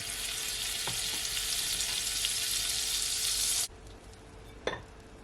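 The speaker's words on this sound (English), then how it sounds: "Okay, just allow your butter to melt." Butter melts and sizzles in a frying pan before French toast goes in, a loud steady hiss that cuts off abruptly, followed by a couple of clinking utensil sounds.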